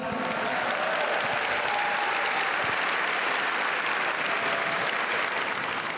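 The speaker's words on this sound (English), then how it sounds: "Let's give them a big round of applause." Audience applause at an African American Honor Roll ceremony for school students, a broad, continuous roar of clapping from a large crowd, steady and somewhat distant, lasting about six seconds.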